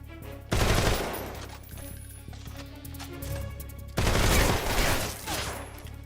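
Bursts of automatic gunfire in a video game, two loud sustained volleys with rapid shots and quieter firing between them, no talk over it.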